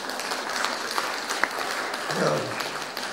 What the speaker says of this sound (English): It's a rather tepid applause.